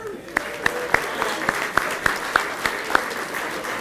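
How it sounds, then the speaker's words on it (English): Scattered clapping from a small dinner audience at an evening award presentation at Hermitage Farm, a handful of distinct claps at a steady pace over a soft background murmur. "How about a round of applause for Hermitage Farm?"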